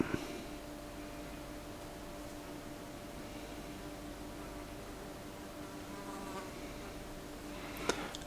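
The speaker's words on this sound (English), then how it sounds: "apologies if you can hear a fly buzzing around" A housefly buzzes around an indoor room, a thin steady drone holding faintly through the whole stretch, with a couple of small knocks at the start and end.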